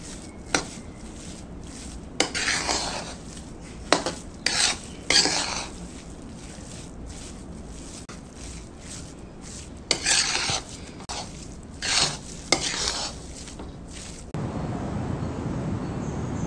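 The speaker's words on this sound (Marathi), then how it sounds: "एकदा हे मिक्स करून घेऊया" Mango shira is stirred and mixed in a pan, with repeated scraping and clinking strokes of a spoon against the pan, spaced irregularly, ending in a denser, steady scraping.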